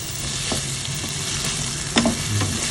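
Shrimp frying in a pan, a loud, constant close sizzle with a few clicks and scrapes of a utensil stirring through it.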